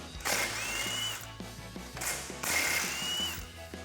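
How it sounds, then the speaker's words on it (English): An impact wrench with a 15 mm socket spins off sway bar bolts on a Jeep Gladiator JT, heard as two whirring, rattling bursts, each about a second long, separated by a short pause. "We're going to be using a 15 millimeter socket and an impact."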